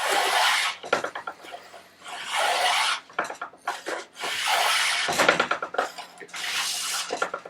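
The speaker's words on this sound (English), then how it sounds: "the spoke shave, as you can see, this is working quite nicely on this piece of timber, and we're getting full length shavings" A spokeshave pulls full-length shavings off a hardwood longbow stave in four long rasping strokes, each a dense scraping burst separated by short pauses and small handling knocks, close and fairly loud with no talking.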